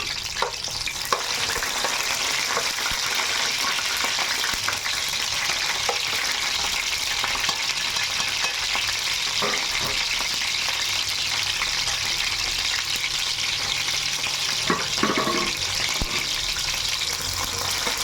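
Green chillies and onion sizzle and fry steadily in a pan for fish curry, a loud continuous crackle with occasional stirring clinks and no talking.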